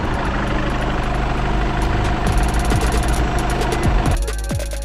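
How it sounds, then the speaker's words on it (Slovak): A Škoda Superb engine idles steadily on fresh oil right after an oil change, a continuous low rumble close by with a faint mechanical tick, easing slightly near the end. "Motor znie ako nový."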